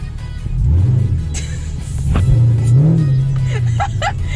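A Chevrolet Camaro SS V8 engine revs hard and climbs in pitch, a deep close rumble surging twice as the car accelerates, with faint voice traces.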